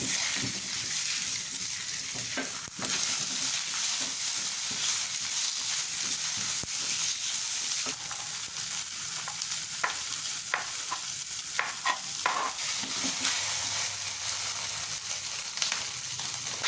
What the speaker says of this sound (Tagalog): Prito ko na ang aking sausages.